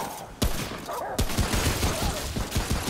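Gunfire in the video game Remnant, several sharp shots cracking out at irregular intervals over a busy background of game noise and effects, fairly loud and close.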